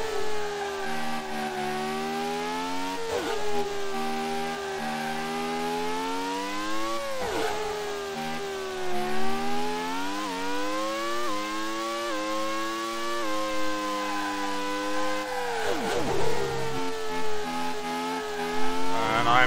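A race car engine in the Grand Prix 2 racing video game screams at high revs, rising through the gears and dropping sharply on downshifts several times, loud and continuous, alone without voices.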